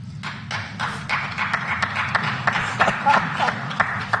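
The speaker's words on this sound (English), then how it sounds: "I absolutely love the fact that very few people clapped." Sparse, uneven clapping from a few people in an audience, quick scattered claps standing out over a steady low murmur of crowd noise.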